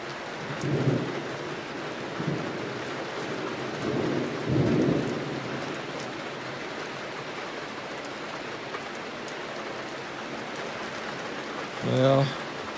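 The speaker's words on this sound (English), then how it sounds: "It lightened and thundered and rained heavy, good heavy, morning." A heavy morning thunderstorm: steady, loud rain hiss throughout, with low rumbles of thunder rolling in early on and a short voice-like burst near the end.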